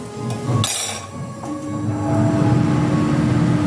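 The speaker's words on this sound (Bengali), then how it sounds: "কারণ চিমনিটা না জ্বালালেই তো নয়, না চালালেই নয়, একটু মানিয়ে নেবেন আওয়াজটা।" Kitchen chimney exhaust hood running steadily during paratha cooking, a continuous near whir with a brief clink of utensils early on.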